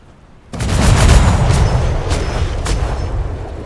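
A ship's cannons fire at the player in the pirate game ATLAS, a sudden loud boom followed by rolling, rumbling blasts that fade but keep crackling.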